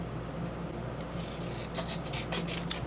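Paper is trimmed for a small handmade notebook, giving soft continuous rubbing and scraping with a few crisp cutting strokes near the end. The sound is close and fairly quiet, with no talking.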